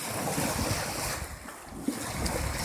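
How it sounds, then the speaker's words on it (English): Wind-whipped ocean waves after a sudden change from flat calm, heard as a constant loud rush of surf and water mixed with heavy wind buffeting against the microphone. "It turned in about 30 seconds this morning from flat calm to these type of waves."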